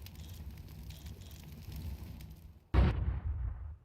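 A grenade goes off in Counter-Strike during a tournament grand final, one loud sudden broadband blast near the end that cuts through steady game ambience and rumbles away briefly.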